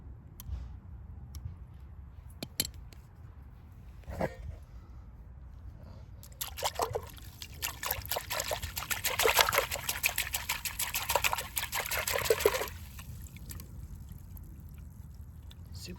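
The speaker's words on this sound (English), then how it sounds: "So now I'll keep rinsing it." Water trickles and splashes as a potted Fabaceae tree's roots are rinsed, with a few faint drips at first, then a steady, close stream that stops abruptly.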